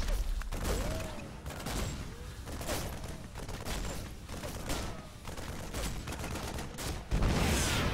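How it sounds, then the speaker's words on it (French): A kinetic gunfire burst in the StarCraft 2 video game plays as a dense, steady barrage of rapid shots and impacts over a continuous battle din, ending with a louder blast. "Voyons comment il apprécie une rafale cinétique"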